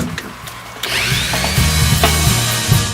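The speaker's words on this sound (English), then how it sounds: "so I'm going to give it a second sanding," Steady, close-up rasping friction noise of 400 grit sandpaper rubbing by hand over an alder guitar body, starting after a brief pause and continuing evenly.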